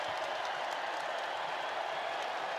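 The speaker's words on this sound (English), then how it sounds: "And Timmy waving to the crowd saying, let me hear you." A basketball arena crowd at a Kentucky vs Gonzaga game cheers and applauds, a dense, continuous roar of clapping and voices at steady loudness throughout.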